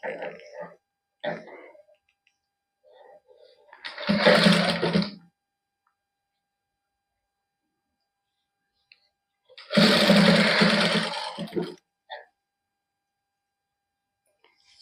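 Two short bursts of a sewing machine stitching lace onto a salwar, each lasting about a second, separated by silence, with someone speaking briefly between and around them.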